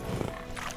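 Brief hoofbeats and a soft snort from Roach the horse in The Witcher 3, a quick cluster of clip-clops in under a second against a busy game background.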